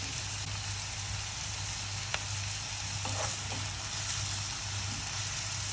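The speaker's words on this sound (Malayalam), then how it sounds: "ഇഞ്ചിയും വെളുത്തുള്ളിയും പച്ചമുളക് നടുവെ മുറിച്ചതാണ്, നടുവെ പിളർന്നിട്ടിരിക്കുന്നതാണ്. ഇതും കൂടി ചേർത്ത് ഇതെല്ലാം കൂടെ നന്നായി ഒന്ന് മൂപ്പിച്ചെടുക്കാം." Ginger, garlic and halved green chillies fry in a pan for an egg curry, giving a steady, close sizzle with a single sharp clink of stirring.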